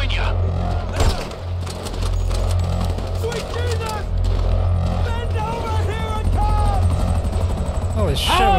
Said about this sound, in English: Another Merriweather chopper?